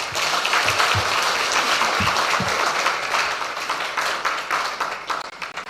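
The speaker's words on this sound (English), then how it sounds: "I didn't see my clubs clapping." Audience applause at the Ghana Premier League partnership launch, a loud dense sustained ovation filling the hall, with a few low thumps early on, tapering slightly at the end.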